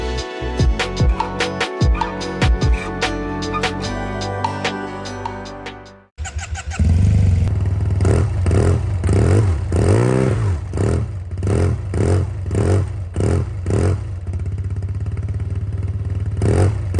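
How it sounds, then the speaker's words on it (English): A Yamaha TMAX 500 scooter fitted with an Arrow Race-Tech exhaust rattles and idles with a clattering tone, then starts and revs repeatedly in rising and falling bursts over a steady deep rumble, loud and close. "today we have a Yamaha TMAX 500 with an Aero Racetech exhaust"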